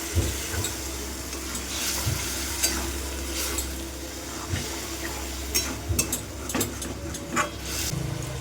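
Okra and potatoes sizzle and fry in a pan while a utensil stirs them, with steady close frying hiss broken by repeated scraping clinks against the pan.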